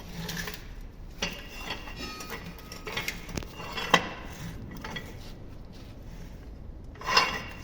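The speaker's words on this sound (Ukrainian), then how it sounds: "І ключом дотягуємо цю гайку." Wrench tightening a wheel hub nut on a KamAZ truck, with scattered metallic clinks, rasping scrapes and a few sharper knocks against a quiet workshop background, no voices.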